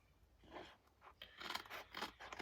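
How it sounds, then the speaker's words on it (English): Scissors snip a punched paper evergreen tree off an overhanging page border, with several short close cuts coming in quick uneven bursts. "So I'm just going to trim off that tree that I have overhanging."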